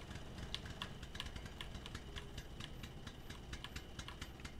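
A computer keyboard and mouse in use: steady, faint clicking and tapping keystrokes in a quick irregular rhythm, close up over a low background hum, with no talking.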